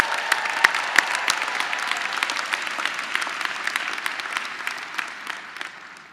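An audience at the opening of Purdue Global's 11th commencement ceremony, the first held in West Lafayette, breaks into sustained applause, a full and even roar of clapping that tapers slightly toward the end.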